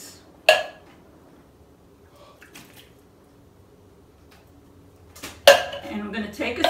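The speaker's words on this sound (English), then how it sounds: "I'm going to dump my pineapple chunks in there" Two cans of pineapple chunks are tipped into a bowl that held bread cubes, giving a sharp clatter and wet slide near the start, then a louder clunk and squishy tumble of fruit toward the end, with quiet between.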